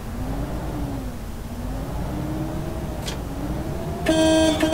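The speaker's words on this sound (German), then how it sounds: "Schöne MG-Hupe." A bus horn sounds in the OMSI 2 bus simulator on a Solaris IV city bus, a short loud blast that comes in near the end over a steady droning engine.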